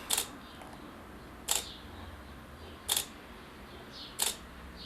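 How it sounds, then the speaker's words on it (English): An Olympus E-M1 Mark II camera shutter clicks four times in normal exposure mode at an even pace, each a short crisp snap, quiet and close, with faint background hiss between. "Shutter sound is rather quiet."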